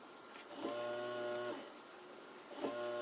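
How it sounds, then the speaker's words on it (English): A small DIY watering-system pump motor switches on in two bursts, each a steady whirring hum with a high whine lasting about a second before cutting off, close and loud over a quiet background. "you can hear the motor turning on every second"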